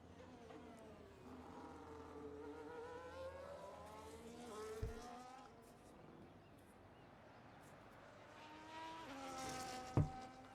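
Race car engines scream at full push around the Monaco street circuit in a racing game league, with rising and falling revs sweeping past, fairly faint and steady, and two sharp thuds near the middle and end.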